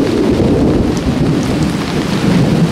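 Heavy to moderate rain pours steadily on a Philippine farm during a thunderstorm, with a dense hiss of rainfall and low rolling thunder underneath, constant and close, with no talking.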